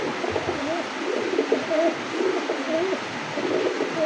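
Kashmiri pigeons in a cage coo in repeated soft, throaty phrases, close by, over a steady background hum; no speech.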